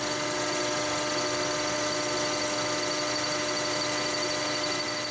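A machine cutting metal at 680 RPM without breaking the chip, giving a steady, loud whirring hum with a buzzing tone and no pauses or talk.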